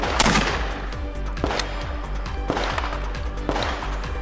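Shotgun pistol shots fired at a range, a series of sharp, loud reports spaced roughly a second apart, each with a short echoing tail.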